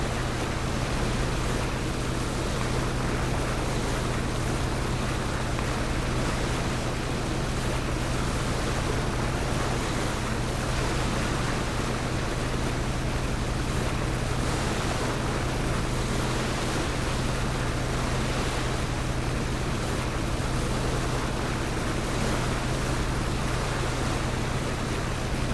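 A boat engine drones steadily with water rushing alongside in PUBG, a constant loud wash of engine hum and spray that runs unbroken throughout.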